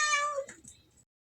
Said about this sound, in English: I have 9 cat sounds.